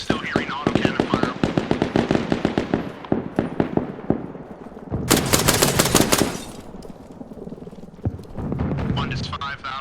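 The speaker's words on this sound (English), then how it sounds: "Looks like I'm still hearing auto cannon fire." Autocannon fire rattles in the military video game Arma Reforger, sounding as rapid rhythmic bursts with a loud dense volley in the middle, and a voice talks over the shooting.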